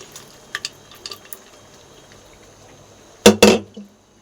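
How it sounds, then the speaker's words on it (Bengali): Chana dal tipped into a pot of frying spice paste lands with a sudden loud rattling splash near the end, following a few faint clicks over a quiet sizzle. "এবার ছোলার ডালটা আমি ঠেলে দেবো"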